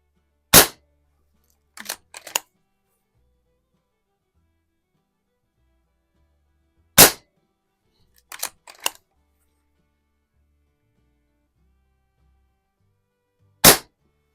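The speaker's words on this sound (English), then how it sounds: "Let's shoot another group at the splatter burst." Three sharp, loud shots from a Reximex Lieva .22 caliber lever-action PCP air rifle, fired several seconds apart at a target, each followed by a quick cluster of metallic clicks from the lever cycling.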